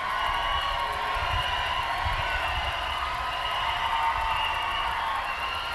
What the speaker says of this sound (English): And this crowd's making a lot of noise there.